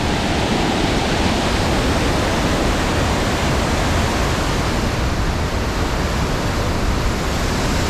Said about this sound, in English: There's our awesome waterfall.